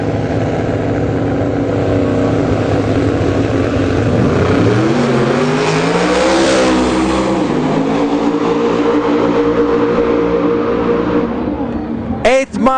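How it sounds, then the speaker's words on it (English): Two Chevrolet drag cars with high horsepower and very small tires race an eighth-mile strip, a loud sustained engine roar that climbs in pitch as they accelerate, with a sharp burst near the end. "Two Chevrolets, a lot of horsepower, a very small tire."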